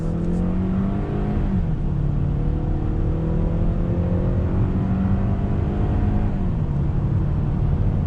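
A 2019 Hyundai Santa Fe SUV in sport mode accelerates hard, its engine drone climbing steadily in pitch through upshifts heard as brief dips. The note stays loud and continuous from inside the cabin.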